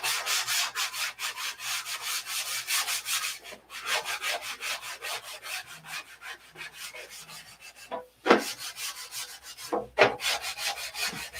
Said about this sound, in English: when you think you're done sanding, I sand again.